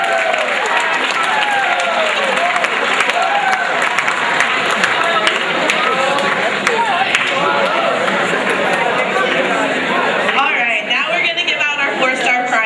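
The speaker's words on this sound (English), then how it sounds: "please stand so we can give you a much well-deserved round of applause" A school audience claps and cheers in sustained, dense applause for top academic students, loud and continuous from start to finish, with a voice briefly heard near the end.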